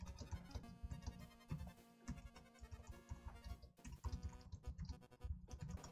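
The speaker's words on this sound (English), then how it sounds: "type in the chat here for a sec" Fast, uneven clicking of a computer keyboard as someone types a chat message during a livestream, close and moderately loud with a faint background hum.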